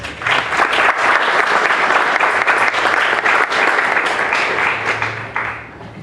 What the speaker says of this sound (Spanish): Démosle la recepción con un aplauso, por favor